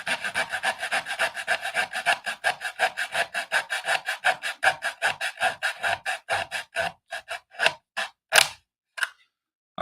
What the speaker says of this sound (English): I realize as I start talking while I'm sawing that you guys probably can't hear me over the saw.